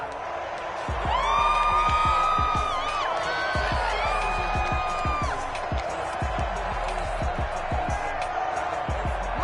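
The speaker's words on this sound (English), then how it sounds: "The crowd's not doing that O-line any favors." Stadium crowd in a 2K football video game, a steady roar of noise against the home offense's snap count, under a play-by-play commentator's voice and game sounds.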